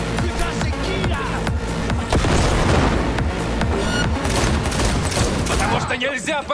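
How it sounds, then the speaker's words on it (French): Explosions and gunfire in the VR game Cyberpunk 2077 come as a dense, continuous barrage of booms and rapid shots, loud throughout with a few sharp transient bursts. "Alors, les explosions sont vraiment bien faites, hein."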